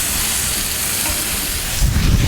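Rice dropped onto an oiled Camp Chef FTG600 flat top griddle sizzles in a steady, loud hiss up close, with a burst of crackling as more hits the hot surface near the end.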